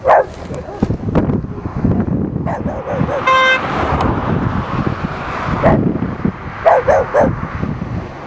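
Dogs bark in short bursts among passing car traffic, with a car horn honking and someone talking over the outdoor street noise.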